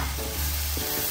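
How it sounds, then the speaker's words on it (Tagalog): Fried ground pork goes into a hot pan with tomato and sizzles loudly and continuously, a close, dense crackle with a little stirring, and no voices. "ilagay na rin natin yung ating giniling na finray"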